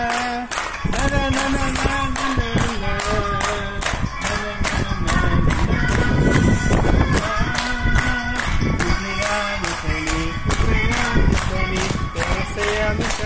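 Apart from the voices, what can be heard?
people clapping hands at a birthday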